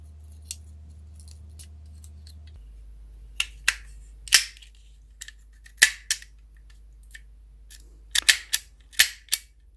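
Vintage toy cap gun loaded with replica roll caps fires a series of sharp, loud cracks, some single and some in quick clusters, separated by quiet mechanical clicks with no talking.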